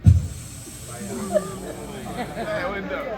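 A man on a comedy stage imitates a car tire hissing as it goes flat, a drawn-out breathy hiss in his voice, with audience noise around it.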